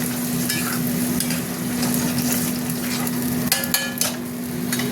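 Spice masala sizzles steadily in a hot pan with salt while being stirred, a dense continuous frying hiss with a few scraping clicks of the spoon near the end, close and fairly loud.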